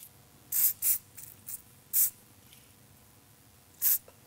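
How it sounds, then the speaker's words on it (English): New Me styling spray is sprayed onto hair in several short hissing puffs, the first two rapid and the rest spread out, close by against quiet room tone with no talking. "the New Me Styling Spray is going to be awesome to help those little"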